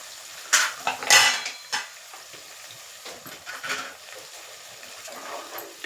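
Grated raw mango is stirred into rice in a pan, a spoon scraping and clinking against the metal in several sharp strokes early on, then softer, sparser scrapes over a light sizzle, close by.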